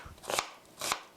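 A knife chops through an onion being cut into half-centimetre pieces, two distinct crisp strokes about half a second apart, close and fairly quiet with no talking.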